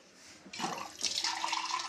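Water from a mug pours into a cooking pot of rice pudding, a steady splashing gush that starts abruptly and keeps running close by with no talk.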